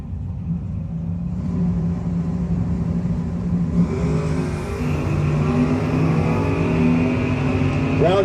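A 1964 Chevelle drag car idles at a No-Box 660 shootout, a loud continuous low engine rumble with a slight rise in revs midway, heard outdoors at the strip with no voices over it.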